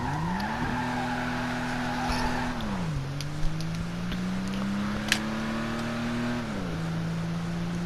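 A car accelerates with its engine note climbing in pitch, easing back at a shift, then rising again through another gear. The sound is steady and moderately loud, with a couple of faint clicks and no talk.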